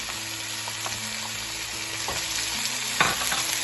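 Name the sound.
vegetables frying on high heat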